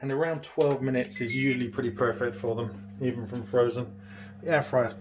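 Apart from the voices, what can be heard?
No everyday noise stands out behind the speech.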